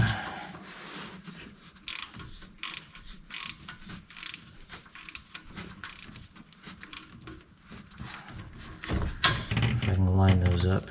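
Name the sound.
ratchet wrench in use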